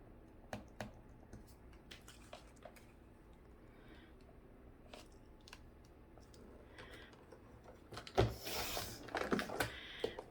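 Scissors snip through folded craft paper in a handful of sharp, close clicks, then a louder rustle and crinkle of the paper being handled near the end; quiet room, no talking.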